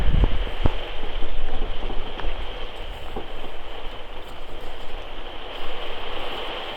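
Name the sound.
rain falling in the woods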